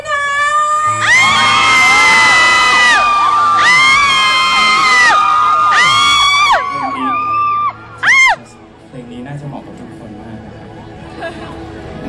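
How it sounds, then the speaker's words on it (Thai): A large crowd at a music festival concert screams and cheers loudly in bursts, high shrieks rising and falling over several seconds before fading to a lower murmur. "ขอเสียงกรี๊ดดังๆเป็นกำลังใจให้กับพี่นะ"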